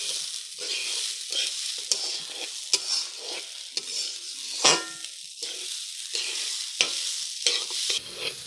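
Vegetable khichuri stirred in a pan gives a continuous sizzle broken by repeated scraping strokes of a spoon against the pan, close and fairly loud, with no one talking.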